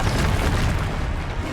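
A spell being cast in the Hogwarts Legacy video game lands as a loud, booming burst that rolls through a dense, noisy battle mix for a second or so.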